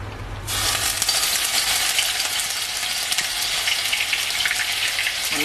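Two medium onions ground to a paste hit a hot kadai for dhaba-style chicken bharta and sizzle loudly at once, a dense, steady crackling fry that carries on unbroken.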